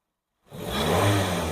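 Petrol engine of a 2020 Maruti Suzuki Baleno revving up from silence, a smooth rising whirring roar that holds steady and loud close by, with no talk.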